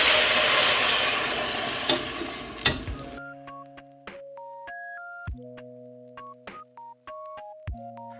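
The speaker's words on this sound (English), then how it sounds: "now that we're letting the sauce simmer" Mexican spaghetti sauce simmers and sizzles steadily in a pan for about three seconds, then gives way to a series of bright electronic chiming tones with occasional sharp ticks.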